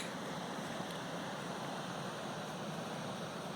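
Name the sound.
water rushing over the Blue Marsh Lake spillway on Tulpehocken Creek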